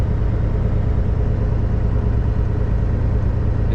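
Kenworth truck engine idling steadily near 1,000 RPM, a continuous loud low rumble with even texture and no pauses throughout.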